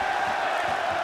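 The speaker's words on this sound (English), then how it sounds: "crowd loving it" Crowd noise from a UFC 5 video game bout between Conor McGregor and Michael Chandler, a steady, dense roar of cheering that fills the whole second without breaks.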